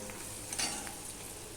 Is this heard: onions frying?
yes